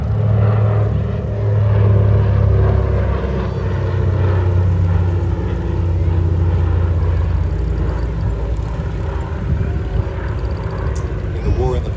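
An RAF Catalina flying boat passes over the Midlands Air Festival, its propeller engines giving a loud, steady, low droning roar that swells slightly early on and holds through the pass.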